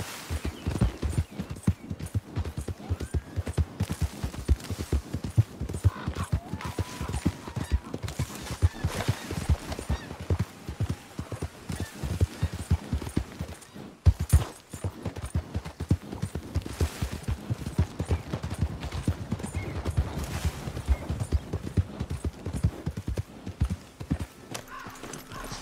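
Steady galloping horse hooves in Red Dead Redemption 2, a continuous rhythmic clip-clop close by for the whole stretch, with an occasional whinny and a brief stumble or pause partway through.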